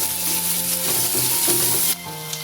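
Onion frying in mustard oil in a wok for a Bombay duck and potato curry: a steady, close, loud sizzle with light scraping stirs, easing slightly toward the end.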